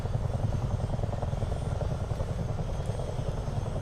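Twin-rotor Chinook helicopter in Microsoft Flight Simulator 2024 thumps with a steady, fast rotor beat over a deep engine drone, close and continuous with no voices.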